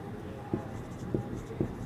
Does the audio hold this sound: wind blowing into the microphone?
no